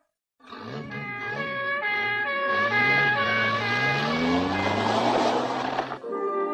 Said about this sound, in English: the two cars speed off to the Alberts' home